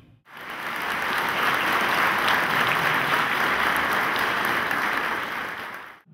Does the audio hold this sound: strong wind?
no